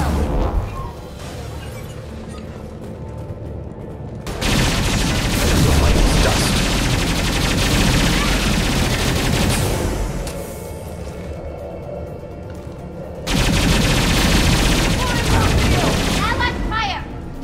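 Gunfire in the game Mass Effect 2: heavy sustained bursts of automatic shooting in two long loud stretches, separated by a quieter lull, with a voice calling out briefly over the combat.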